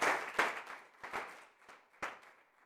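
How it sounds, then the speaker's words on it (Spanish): A church congregation claps in praise during a Spanish-language service, a few irregular bursts of hand claps rising and fading over a couple of seconds. "dale una ofrenda de palmas a aquel que nos trae la paz"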